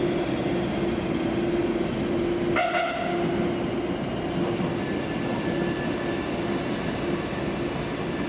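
Locomotive-hauled train at Porto Campanha station on Douro Valley services, a steady close rumble of wheels on rail with a sustained squealing whine and a brief horn-like tone partway through.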